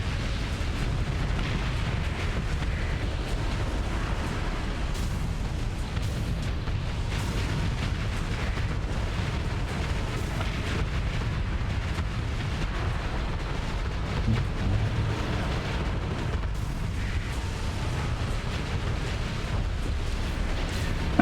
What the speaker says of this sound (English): So the ballistic cannons cycle fairly quickly.